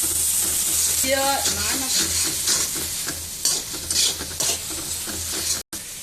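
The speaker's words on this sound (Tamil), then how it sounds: "அரைச்ச மசாலா அது அப்போ தான் நல்லா வறுபடும்" Ground masala sizzles and fries in a pan while being stirred for a Pondicherry-style chicken curry, a steady close hiss with scraping strokes, briefly cutting out near the end; a voice talks faintly in the background.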